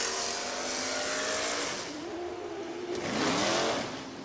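Loud racing car engines roar and rev, one swelling past close by with a rising and falling whine.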